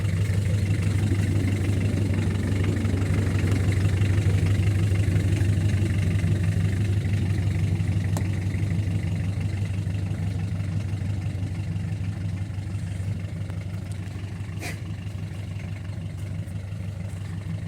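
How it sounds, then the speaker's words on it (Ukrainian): A small tractor engine idles with a steady low chugging hum throughout, fairly loud and close, no voices over it. "Тракторець на холостих тягне собі не спіша."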